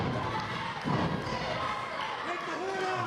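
Combat boots stomp down on a downed opponent in a pro wrestling match, dull thuds buried under continuous commentary and a steady crowd roar.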